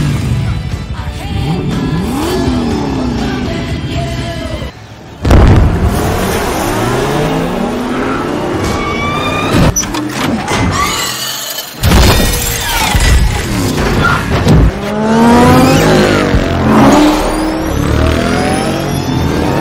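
Loud race cars roar and rev at speed, with engines whining past and sharp crashing impacts mixed into a busy, intense stretch.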